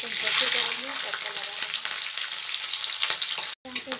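Steady crackling sizzle of garlic frying in hot mustard oil in a kadhai, loud and close, with a brief dropout near the end.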